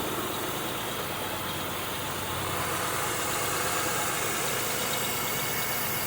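Steady, quiet idle of a 2002 Buick LeSabre engine after gasket replacement, a smooth continuous hum with a faint broadband hiss, heard close by with no talking.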